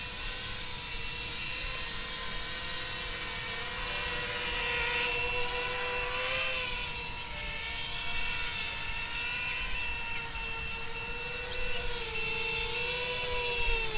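A multirotor drone running on a 6S LG 18650 battery pack hovers and settles into a landing, its motors giving a steady close whine with pitch wavering as throttle shifts.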